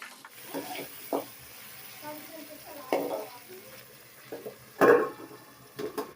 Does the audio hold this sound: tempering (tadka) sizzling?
yes